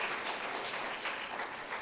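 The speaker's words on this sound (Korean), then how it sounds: "박수 한번 보내줘요." Church congregation applauding during a Sunday afternoon service, a steady clatter of many hands clapping together, fairly distant and even throughout the short burst.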